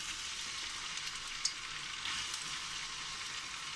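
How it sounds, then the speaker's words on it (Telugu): Bitter gourd pieces fry in hot oil, a steady bright sizzle running throughout at moderate volume with one brief sharp crackle midway, no voices. "దాంట్లో నూనె పోసి నూనె వేడైన తర్వాత కాకరకాయలు మంచిగా"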